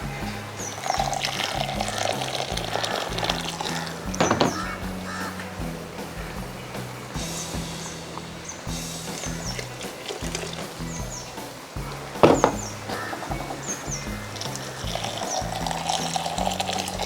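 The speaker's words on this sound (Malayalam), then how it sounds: "നമുക്ക് പാകത്തിനുള്ള വെള്ളം ഒഴിക്കാം." Water is poured into a pan of Kerala mackerel curry, a steady liquid pour running under a busy background with crows cawing nearby and occasional clatters.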